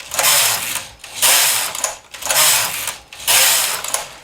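Waste yarn being knitted on a knitting machine: four loud rhythmic passes of the carriage, each a sustained clattering whir of about a second, separated by short pauses, close and without voices.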